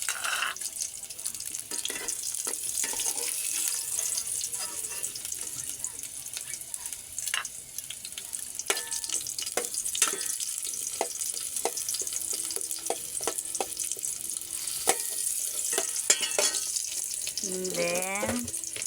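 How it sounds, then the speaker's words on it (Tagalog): Garlic sautéing in a pan gives a steady, close sizzle with scattered clinks of a utensil against the pan, and a brief voice rises near the end. "magigisa tayo ng bawang"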